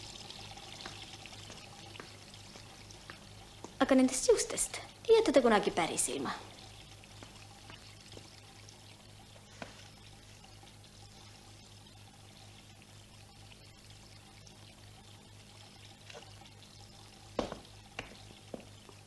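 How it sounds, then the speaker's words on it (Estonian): Water runs from a tap for a few seconds in a burst of splashing, then fades to a quiet room tone, with a voice speaking briefly. "Pange kraan kinni."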